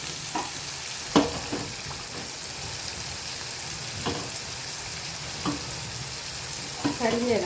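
Moong dal fries in a hot pan in the kitchen, giving a steady, even sizzle with occasional clinks of a stirring spoon.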